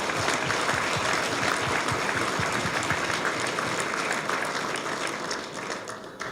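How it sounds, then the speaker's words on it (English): Sustained applause from a dinner audience at a golf association's annual meeting in a Westchester country club ballroom, dense and steady clapping that tapers slightly near the end, with no speech over it. "Let's have a round of applause for 2 lives well lived."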